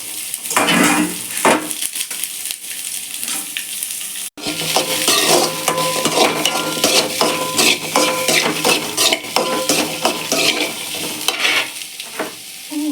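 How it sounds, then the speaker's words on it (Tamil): Onion, ginger, garlic and tomato sautéing in a pan for a country-chicken gravy, with a busy close sizzle, frequent spoon scraping and metal clinks against the pan. "இப்போது வெங்காயம் இஞ்சி பூண்டு தக்காளியை இதில் போட்டு நல்லா வதக்கிக்கலாம்"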